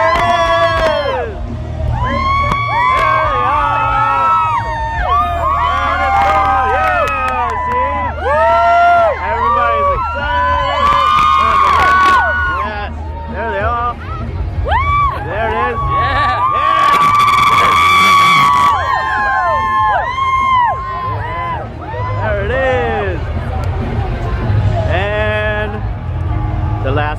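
A crowd at the Vans Warped Tour in Montreal cheers and whoops loudly and continuously, many voices shouting in rising waves, with a close voice also calling out over it.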